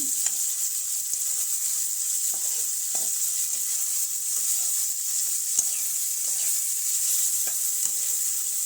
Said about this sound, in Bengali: দেখুন ছোলা ভাজার পর্ব চলছে